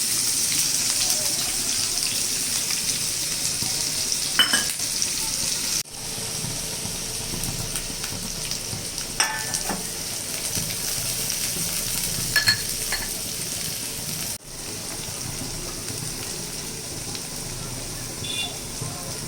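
Onions fry in a pan for sooji upma with vegetables, a steady broadband sizzle running throughout, with a few brief spoon or utensil clicks and scrapes of stirring.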